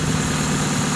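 A car engine converted to run on hydrogen idles steadily at close range, a constant low hum with a slight vibrating rumble and no clear rise in revs, heard alone without voices.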